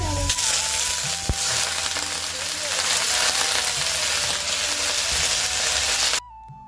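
Leafy greens frying in a pan, with a loud, steady sizzle and crackle that runs unbroken for several seconds before cutting off suddenly near the end.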